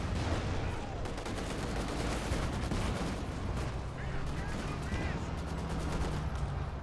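Rapid rifle and machine-gun fire crackles through a battle in a World War strategy game, volleys of sharp shots rattling steadily over a low rumbling din of combat for the whole stretch, with no clear voices over it.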